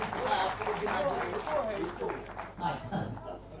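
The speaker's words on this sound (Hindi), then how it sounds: "जरा जोरदार तालियों से मंच का उत्साहवर्धन करें" Audience at a poetry recital event clapping for the performers on stage, a steady wash of applause under a voice speaking over a microphone, with the clapping swelling and fading through the moment.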